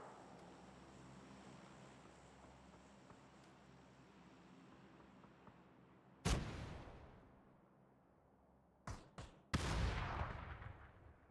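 A Panzerfaust rocket fired in the video game PUBG: a sharp loud blast after quiet wind-like ambience, followed a few seconds later by two quick bangs and a heavier rumbling explosion.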